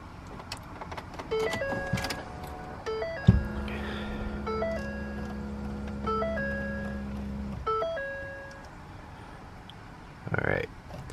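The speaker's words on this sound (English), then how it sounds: "I'll go ahead and turn the car on." A car is switched on: a series of bright electronic chimes and beeps, then a steady low hum from about three to seven and a half seconds, with another short burst near the end. No talk is heard.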